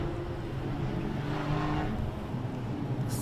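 Street stock race cars at Mildura Speedway drone steadily around a dirt oval, a continuous loud engine roar that swells slightly midway, heard from trackside without voices.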